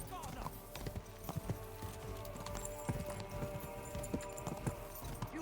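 Horse hooves galloping in the video game Kingdom Come 2, a quick irregular clip-clop drumming steadily through the scene, fairly faint and mixed with other game sounds.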